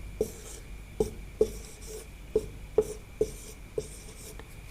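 Writing by hand on a maths exercise, with pen or chalk strokes on a surface giving small sharp taps at an irregular pace, about eight in a row, faint and close in a quiet room.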